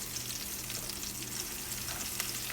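Curry leaves, green chilies and fennel seeds fry in hot oil, giving a steady, fairly quiet sizzle with faint crackles and pops throughout.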